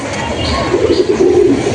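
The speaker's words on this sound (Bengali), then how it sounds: "এটা নর পায়রা" A male Madras pigeon gives a low, rolling coo, close by and fairly loud, over a faint murmur of background voices.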